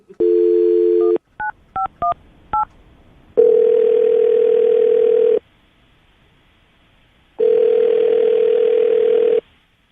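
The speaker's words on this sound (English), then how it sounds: "I'm going to dial his phone number right now" A phone line gives a dial tone, then several quick keypad beeps, followed by two long ringback tones with a pause between them.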